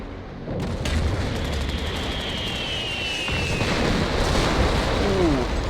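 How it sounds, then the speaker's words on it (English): Bombing run explosions in the wartime strategy game Company of Heroes, dense rumbling blasts and booms rolling continuously under a faint whistling descent, loud and sustained throughout with a brief lull partway. "Another bombing run coming in over here."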